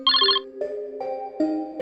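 A mobile phone ringtone plays a short electronic melody of bright, stepped tones, close and clear with no talk over it.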